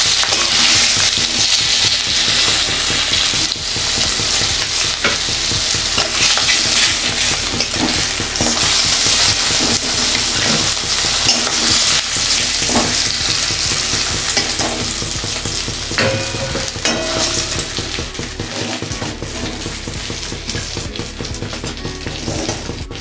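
A fish head fries in oil in a wok, giving a continuous loud sizzle with scraping and stirring throughout, and no voices.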